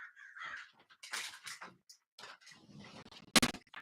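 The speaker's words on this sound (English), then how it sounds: "These crows are going very hard." Crows cawing outside an open window, several harsh calls in uneven bursts at moderate distance, ending in one louder, sharper cry.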